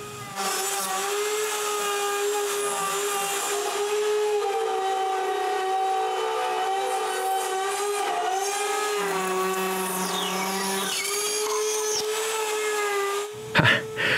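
A router on a height jig cutting wood tenons for a mobile workbench; a sustained high whine with strong steady harmonics, loud and close, shifting pitch as the bit cuts, ending with a few knocks.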